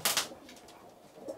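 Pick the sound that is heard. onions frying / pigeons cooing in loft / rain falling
pigeons cooing in loft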